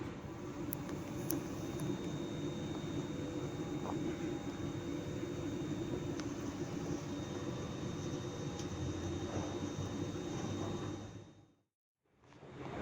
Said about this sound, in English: for a train going from effectively Glasgow to Edinburgh, it's actually very, very quiet for a Sunday afternoon